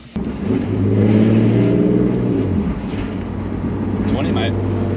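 A budget drift car with a freshly fitted exhaust and upgraded transmission idles and revs on a test drive, a loud low engine drone with rising and falling pitch sweeps, close to the microphone.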